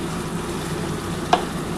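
Young goat meat sizzles and fries steadily in a pan over a gas flame turned up high, a constant close crackle with one brief sharp click near the end.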